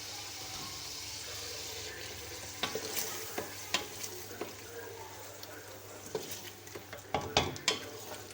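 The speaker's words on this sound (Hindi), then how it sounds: "हम इसमें चने डालकर 5 से 10 मिनट तक भूनेंगे" Boiled chickpeas being stirred and fried in ghee-rich spice masala for chana tikki, a low sizzle punctuated by repeated spatula scrapes and knocks against the pan, quiet and close.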